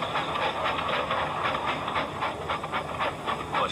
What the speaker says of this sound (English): The driver tied a pad of newspaper tightly round the hole in the brake pipe, and James was able to pull the train.